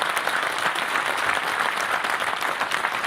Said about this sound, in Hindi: कृपया जोरदार तालियों के साथ हमारी वीर नारियों को सम्मान प्रकट करें।